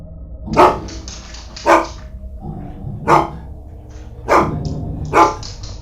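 A dog barks five times at steady intervals, loud and close, with a slightly hollow, echoing quality between barks.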